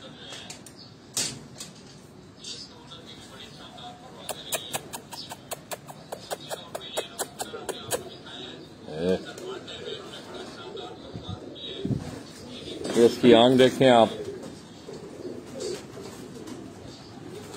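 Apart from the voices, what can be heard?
golden breed pigeon cooing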